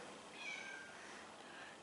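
A talkative cat meows faintly in the background, a thin, drawn-out cry or two over steady low room noise, heard near a John Deere 8870 tractor.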